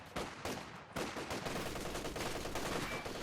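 Gunfire in the World War II strategy game Company of Heroes 2, with sharp bursts and rapid rattling volleys mixed into a dense, continuous battle din.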